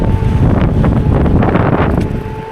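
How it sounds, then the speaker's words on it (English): Cold wind buffets the microphone while riding a scooter over snow and ice, a loud, rough, continuous rumble of gusts with no voices. "Be aware of the wind too, because that's really cold."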